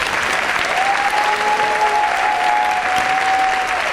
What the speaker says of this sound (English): And let's have a big round of applause for Dr. Lutinsky.